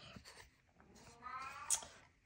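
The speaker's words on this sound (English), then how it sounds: "Sorry, that's my cat." A house cat gives a few soft, faint meows, with one brief sharper cry near the end, in a quiet indoor room.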